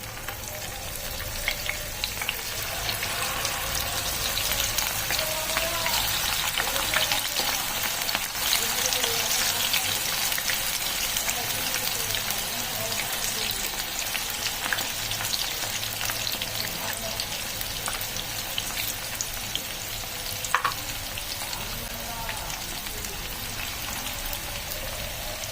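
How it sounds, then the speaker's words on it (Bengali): Chicken sticks fry in hot oil in a pan on a gas stove, a dense, steady crackling sizzle with scattered sharper pops, close and continuous throughout with no talk over it. "আমার চিকেন স্টিক ফ্রাইয়ের জন্য তেল রেডি, গরম হয়ে গেছে। একের একে এরকম ছেড়ে দেবো।"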